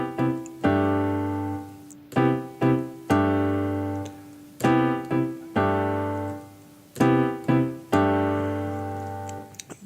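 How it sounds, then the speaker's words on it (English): Piano playing a voicing in fourths: repeated struck chords in an uneven syncopated rhythm, each attack ringing and decaying, close and clear with no talking. "which is a voicing in fourths, and it's going to sound like this."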